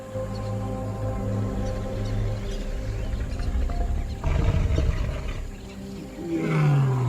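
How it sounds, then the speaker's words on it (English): A wild lion roars at sunset near a crater rim. The deep, rumbling roars come loud and close in repeated grunting bursts, ending in a long, falling roar. "As the sun sets behind the crater rim, deep roars echo across the land."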